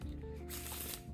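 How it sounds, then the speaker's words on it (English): Playing cards shuffled by hand during a card trick, a brisk riffle that builds into a dense rushing flutter, close and fairly quiet with no talk. "They can shuffle the cards to their heart's content as much as they'd like."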